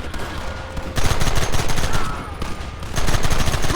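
Rapid bursts of gunfire from the video game Red Dead Redemption crackle loudly in dense volleys, with brief lulls between sustained barrages of overlapping shots.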